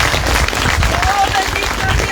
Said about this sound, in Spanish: Ofréndale fuerte palmas al Rey de Reyes en esta mañana.